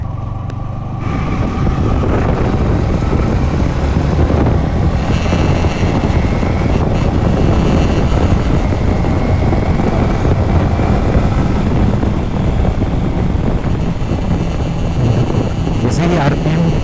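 A Yamaha MT-15 motorcycle engine with an abnormal noise at high RPM, around 5,000–6,000, gives a loud, steady, close droning roar that holds without pause, with a rough whine over the top.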